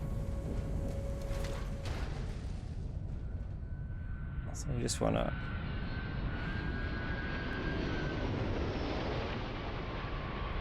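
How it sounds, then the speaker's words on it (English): A spaceship landing in Starfield produces a deep, continuous engine roar with a brief mechanical whine and clank midway, while someone talks over it. "it sounds like we've got another ship coming in as well"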